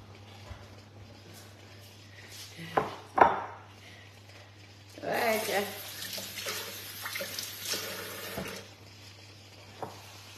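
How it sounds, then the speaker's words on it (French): Kitchen activity while cooking potatoes, with water running, pots and dishes clinking and scattered clatters under intermittent talking and a steady background hum. "Je cuisine en même temps."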